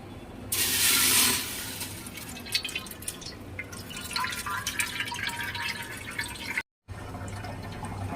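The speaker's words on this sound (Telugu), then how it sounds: "ఇప్పుడు ఇందులో మనం వాటర్ వేసుకుందాం" A burst of water pours into a metal pot, followed by scattered drips and clinks, close by and fairly loud at first.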